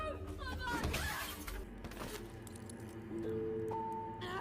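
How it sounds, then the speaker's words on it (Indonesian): A mirror shatters as a man is shoved into it during a fight in a toilet, a loud burst of breaking glass followed by scattered tinkling fragments, with a few faint tones afterward. "Jeremy mendorong Texel ke arah kaca hingga pecah"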